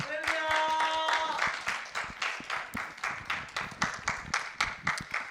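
Congregation at a Korean seminary chapel service claps to welcome a pastor, the clapping falling into a rhythmic beat after a voice trails off.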